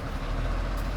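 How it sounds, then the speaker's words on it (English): A truck works close by with a steady, broadband low rumble of engine and machinery, droning continuously and fairly loud with no talk over it. "There's a truck doing something near here"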